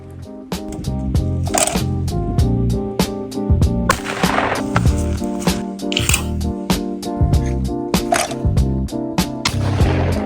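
Browning Cynergy Wicked Wing shotgun firing, a rapid run of sharp, loud shots in quick succession with short echoing tails, no talk.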